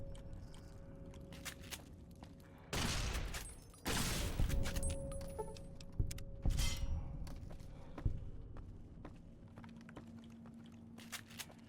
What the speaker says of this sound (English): It's like a shotgun.